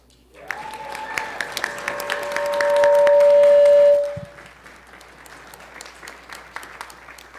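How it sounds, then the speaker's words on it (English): Round of applause from a congregation at a Sunday morning worship service, loud sustained clapping filling several seconds, with a held sung or organ tone riding over it before the clapping tapers into scattered claps. "Let's give a round of applause to Jagannath Payson."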